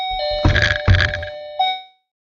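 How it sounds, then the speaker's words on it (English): A doorbell rings indoors with a few bright electronic chime tones, two strong strikes followed by a softer final tone that fades quickly into silence. "that was my doorbell"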